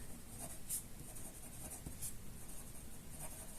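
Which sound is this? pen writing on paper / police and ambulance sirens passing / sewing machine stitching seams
pen writing on paper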